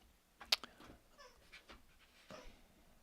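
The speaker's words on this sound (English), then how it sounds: "That's my dog with a squeaky toy." A dog plays with a squeaky toy indoors, giving a sharp squeak near the start followed by soft panting, snuffling and quieter squeaks, fairly close and alone without talk.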